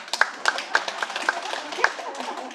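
A few sharp hand claps in a quick run, about seven, close by during a Buddhist dharma talk, fading into a brief murmur.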